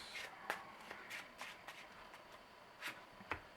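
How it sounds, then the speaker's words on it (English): A deck of game cards is shuffled in a series of quick, soft riffling bursts at close range, fairly quiet, with short pauses between them. "we will shuffle this deck and draw another hand up to 6 cards"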